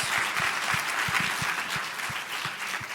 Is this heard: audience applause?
yes